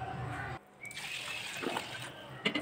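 Water pours and gushes into washed rice and lentils in a pressure cooker for khichuri, with a brief pause partway, then continued filling and a small clatter at the end, close and moderately loud.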